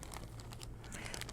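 A plastic Ziploc bag crinkling as seeds are put into it, a short burst of close, quiet rustling and crackling.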